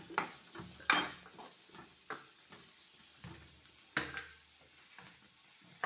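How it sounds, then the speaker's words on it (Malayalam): Onions frying in a pan for crab roast are stirred: a steady soft sizzle under repeated sharp clicks and scrapes of a spoon against the pan, spaced irregularly, close and clear, with no voices. "നമുക്ക് നമ്മുടെ ഉള്ളി ഇട്ട് കൊടുക്കാം. ഇതൊന്ന് ഇളക്കി കൊടുക്കാം."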